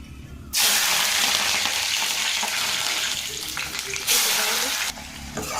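Cooking oil heating in a pan on a lit gas stove before fish curry, a loud, dense frying hiss that starts abruptly, holds steady, then briefly surges again, close up with no speech.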